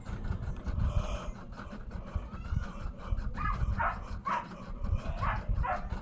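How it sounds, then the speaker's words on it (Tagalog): Outdoors, a dog cries in faint, distant whimpers and short yips that come in several broken bursts over a low background hum. "Yung aso ng aking kapatid guys, umiiyak."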